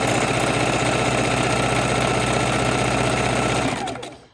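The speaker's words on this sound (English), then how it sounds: "with your sewing machine, you might be able to switch it onto a satin stitch" A sewing machine stitches appliqué fabric with a fast, even mechanical whirring and rhythmic needle chatter close by, running steadily before winding down and stopping at the end.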